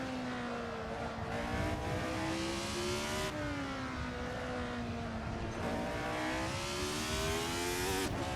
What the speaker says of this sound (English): Hard on the braking here for this right hand corner.